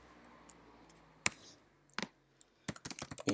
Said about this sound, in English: We can type in a title